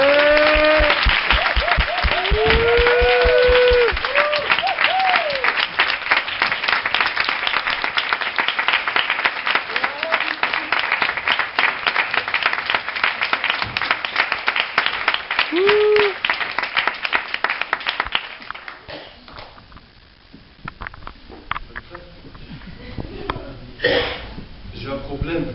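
A crowd at a French slam poetry event breaks into dense, loud clapping and cheering that runs for about eighteen seconds, then thins out into scattered claps. A few whoops and voices rise above the applause.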